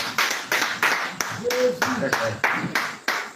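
A church congregation at an intense prayer service claps in a brisk, even rhythm, about three sharp claps a second, close and loud, with singing or voices carrying along underneath.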